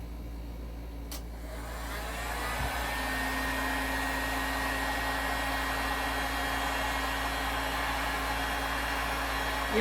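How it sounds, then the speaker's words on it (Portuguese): A hair dryer on power setting 2 starts with a click and runs up to a steady loud whooshing blow, used to soften EVA foam, continuing evenly to the end. "vou ligar aqui meu secador na potência 2"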